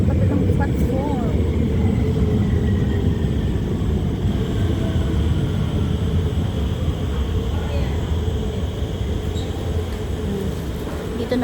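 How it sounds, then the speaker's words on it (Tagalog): MRT train at a station platform, a steady loud low rumble and rushing roar lasting throughout, with faint tonal whines and no distinct pauses. "Dito na yung ating MRT sa katulang platform."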